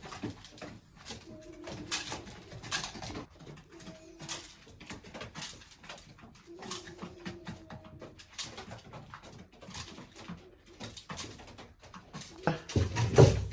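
Pigeons coo softly in repeated low, throaty phrases, joined by faint scattered chirps, a bump and shuffling noises, ending in a louder burst of noise.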